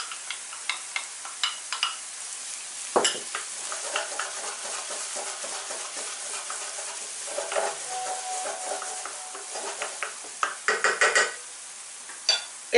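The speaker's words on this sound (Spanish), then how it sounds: "Que vaya ya poquito a fuego lentito y que se vaya sofriendo un poco antes de añadir el perejil." Minced garlic frying gently in oil over low heat in a pan, with parsley about to go in, gives a steady close sizzle throughout, broken by repeated short scrapes and clinks of a utensil stirring and tapping the pan.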